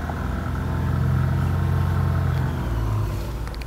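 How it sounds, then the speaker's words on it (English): The 2010 Toyota Highlander engine is revved up from idle, its tone rising and holding for a couple of seconds before dropping back down, loud and close with no talking. "This engine does sound great when revved."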